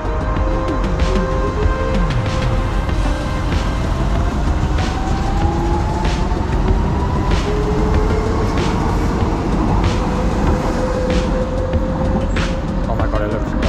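London DLR train running, heard from the front seat: a steady, loud rumble of motors and wheels with rising and falling tonal whines throughout, light rail clicks, and a person speaking at times over the noise.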